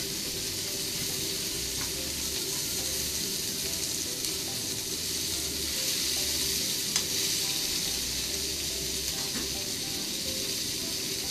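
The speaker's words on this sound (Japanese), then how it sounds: "一緒に炒めましょう" Cabbage and pork stir-frying in a pan for sweet-and-sour pork and egg, a steady loud sizzle running the whole time with a few soft scrapes of stirring, no voices.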